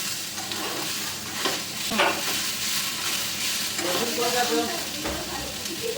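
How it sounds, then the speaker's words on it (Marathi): Tomatoes, cashews and chillies sautéing in a pan for dum aloo, with a steady sizzle and hiss broken by scraping stirs and a few sharper spatters. "टोमॅटो काजू आणि मिरची ॲड केलेली आहे थोडंसं लालचं होईपर्यंत आपल्याला परतून घ्यायचं आहे"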